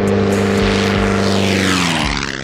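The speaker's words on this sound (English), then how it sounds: "aerobatic, performance sport experimental plane" A Midget Mustang, a small aerobatic experimental sport plane with a propeller, roars loudly and steadily close by. Its engine drone holds strong throughout, with a slight pitch shift near the end as it passes.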